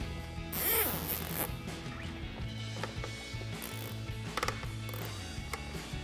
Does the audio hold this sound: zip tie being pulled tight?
yes